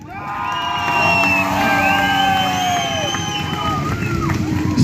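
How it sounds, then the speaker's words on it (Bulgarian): Loud, sustained cheering and whistling from a crowd at a motorcycle stunt contest, with an announcer calling over the din and the noise holding steady throughout. "Вашите аплодисменти да чуе за Розалия!"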